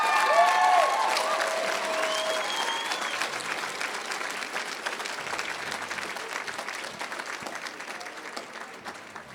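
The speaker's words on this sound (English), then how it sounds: "let's give her a big round of applause" A crowd applauds for Chris Pearson, steady clapping that fills the room at a fairly loud level, then slowly thins and fades over about nine seconds, with a few stray voices and whistles at the start.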